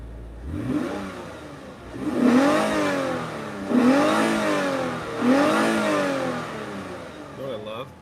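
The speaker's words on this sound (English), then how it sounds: "I'll give it a little bit of exhaust and try to give you some sound if I can." A 2021 Lexus IS 350 F-Sport revs its exhaust in three strong, rising-and-falling bursts after a brief first blip, each swell sweeping up in pitch then settling, close and fairly loud.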